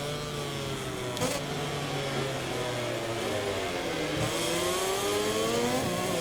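A KTM racing motorcycle in MotoGP 24 screams through a corner, its engine pitch sweeping down under late braking and then climbing again as it accelerates, loud and continuous.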